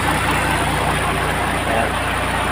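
A Foton truck's diesel engine runs steadily after a steering compressor replacement, a loud, even, continuous rumble up close with no talking over it.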